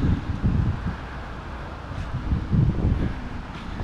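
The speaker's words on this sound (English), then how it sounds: "with the wind blowing like this. It's very windy" Steady wind blows across the microphone in a continuous low rumble with gusts rising and falling, no talking, on a small-town street in Morganton, North Carolina.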